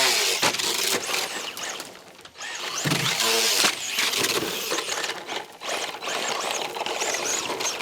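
An RC rally car driving in two-wheel drive, its electric motor whining in rising and falling bursts alongside gritty scraping and rattling from the chassis and tires, close up and fairly loud with no voices.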